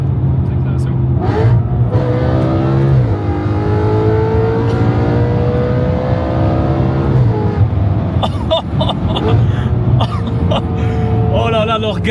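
A 2013-era Audi RS5 B8.5 with a 4.2-litre V8 and an aftermarket exhaust line revs hard, loud and close, climbing and falling in pitch across several sweeps with a deep throbbing burble, while people talk over it.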